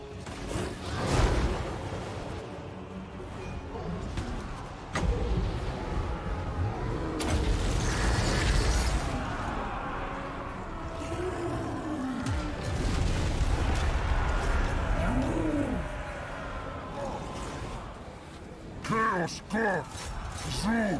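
Gunfire and artillery from a Total War: Warhammer II battle: booming blasts and crackling shots erupt repeatedly over a dense, mechanical battle din, with a voice talking over parts of it.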